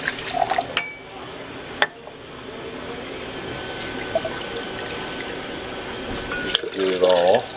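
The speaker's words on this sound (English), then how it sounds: "Use some of my distilled water to rinse the beaker." Distilled water is poured into a lab beaker holding sodium hydroxide to rinse it, a quiet steady trickle lasting several seconds with a few glassy clinks at the start and a louder splash and clatter at the end.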